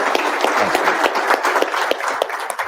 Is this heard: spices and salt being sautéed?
no